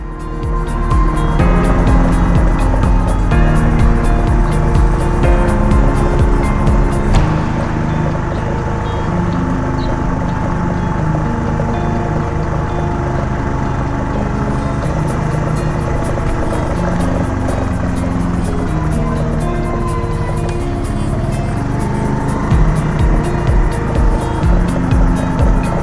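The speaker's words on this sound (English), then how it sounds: "It is an enjoyable ride over these brick-paved streets, even with my Navi's less-than-ideal suspension." A Navi motorcycle with stiff suspension rides over brick-paved streets in historic downtown Winter Garden, Florida. A loud, steady engine and wind roar fills the whole stretch, close and continuous, without speech.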